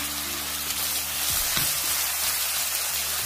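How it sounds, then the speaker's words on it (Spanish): Onion sautés in a pan with chiles and pork ribs for red salsa pork ribs, giving a steady, close sizzle with a low hum underneath and a few soft clatters near the middle. "La voy a dejar por unos dos minutitos para que la cebolla se acitrone bien"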